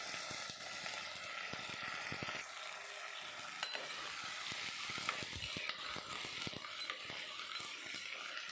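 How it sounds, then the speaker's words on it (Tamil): Radish and brinjal sauté in oil for sambar, giving a steady close sizzle with scattered scraping and stirring clicks throughout and no talking. "இப்போது சாம்பாருக்கு தேவையான காய்கறிகள் ஆட் பண்ணிடலாம் நான் முள்ளங்கியும் கத்திரிக்காயும் ஆட் பண்ணியிருக்கேன்"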